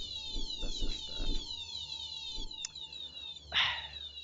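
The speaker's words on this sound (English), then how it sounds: "And the fire alarm turns on every 5 minutes." A fire alarm chirps in rapid repeating high electronic sweeps. It is heard behind talk, with a short bang near the end.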